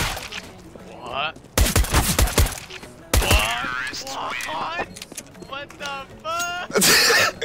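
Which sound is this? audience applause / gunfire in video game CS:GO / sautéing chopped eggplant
gunfire in video game CS:GO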